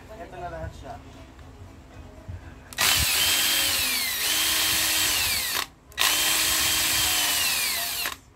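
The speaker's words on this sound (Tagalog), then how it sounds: "Ito, hammer drill." A cordless hammer drill with carbon brushes whines loudly in two sustained bursts, its pitch sweeping as it revs, cut briefly by a short pause; softer handling noise and low talk come first.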